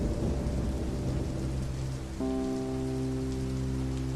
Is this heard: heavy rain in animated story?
yes